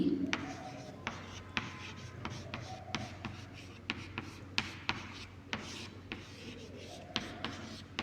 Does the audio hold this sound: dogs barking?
no